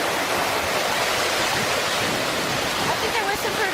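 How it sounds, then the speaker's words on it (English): Flash flood water roars in a loud, dense rush that holds steady and unbroken like a torrent, with faint voices occasionally under it. "And all the water just breaking."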